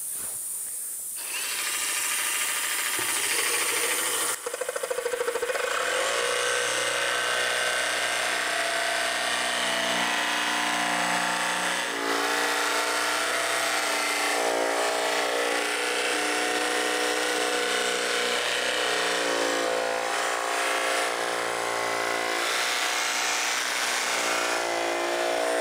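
A Bosch GST 18V 155 SC cordless jigsaw cuts wood held on a vacuum plate, its buzzing motor starting up and then running loud and steady for the rest of the stretch, up close with no speech.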